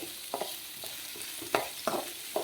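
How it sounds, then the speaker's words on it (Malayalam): Onions sautéing in a pan, a soft continuous sizzle broken by repeated spatula scrapes and stirs at an irregular rhythm, close by and fairly quiet. "സവാള ഒന്ന് വഴറ്റണം"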